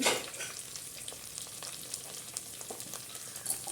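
Onions and fish curry masala frying in a pan for a fish kulambu, a steady close sizzle with faint stirring scrapes and small pops, no voices.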